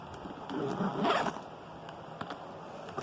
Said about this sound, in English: so let me zip that up